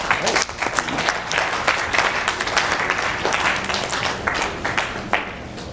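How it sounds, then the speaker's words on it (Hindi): Enthusiastic applause from a Teachers' Day audience after a presentation-skills talk, dense crackling claps from many hands filling the room, loud and close, tapering slightly near the end. "मैम के लिए एक बार जोरदार तालियां।"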